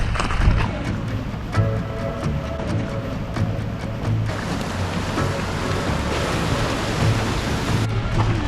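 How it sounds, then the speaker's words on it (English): A steady broadband rush of a waterfall in Skaftafell, Iceland fills the air, constant and fairly loud, with wind buffeting the microphone and occasional faint voices. "Ooh, I hear a waterfall."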